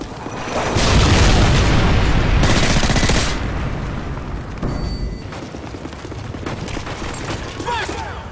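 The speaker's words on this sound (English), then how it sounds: "Friendly Predator missile inbound." A Predator missile strike in Call of Duty Modern Warfare 3 lands as a loud, broad explosive boom, followed by rumbling blasts and scattered battlefield gunfire that fades to a steady din, with no speech over it.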